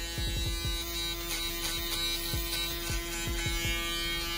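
Electric hair clipper with a single blade cutting hair, a steady close buzzing hum running throughout with brief changes in tone as it passes over the head.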